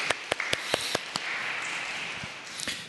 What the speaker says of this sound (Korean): 우리 예배 받으신 하나님께 감사와 찬양의 박수 올려드리겠습니다